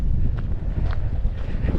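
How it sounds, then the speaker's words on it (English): Wind blowing across open desert, buffeting the microphone as a low rumbling roar that stays steady and close throughout. "Today it might be a little noisy with the wind"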